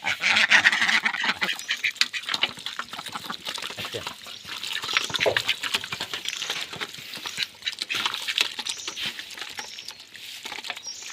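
Village ducks quack busily while being fed rice, a dense rapid chorus of quacks and pattering, close and continuous, with a person talking now and then.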